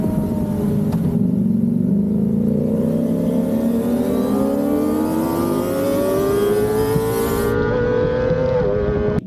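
A 2023 Kawasaki ZX25RR motorcycle with quick shifter and auto blipper downshifts from third to second gear, its engine note climbing steadily in pitch as revs build, loud and close with wind noise and no talk.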